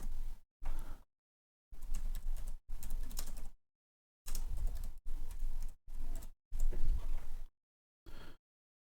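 Close typing on a computer keyboard in short bursts of quick keystrokes separated by brief pauses, with no talking.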